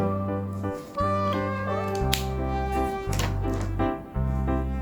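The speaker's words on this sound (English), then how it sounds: "C for cat." A cat meows over a children's alphabet song, with several drawn-out mews rising and falling against steady repeating musical tones underneath.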